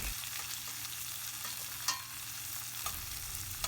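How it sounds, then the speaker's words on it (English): Onions for veg pulao fry and sizzle in a pan with a steady crackling hiss, joined now and then by the scrape of a spoon stirring. "we have to cook the onion very well"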